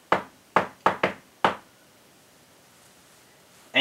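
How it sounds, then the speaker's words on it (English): Five sharp knocks on an escape room prop in an irregular secret-knock pattern, close and distinct, followed by quiet and then a brief rustle at the end. "Now I can program in my knock."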